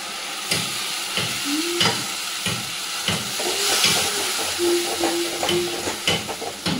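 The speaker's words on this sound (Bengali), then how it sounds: "ভালো করে মশলাটাকে এর সাথে কষিয়ে নেবো" Masala with cashew and poppy seed paste fries in a pan for a Bengali home-cooked meal, hissing and sizzling continuously while a spoon scrapes and stirs in short repeated strokes.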